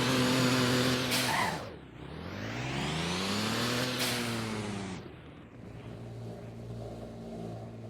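Car engine revving in the Roblox game Driving Empire, loud and continuous with pitch rising and falling through two sweeping rev cycles, then settling to a steadier drone.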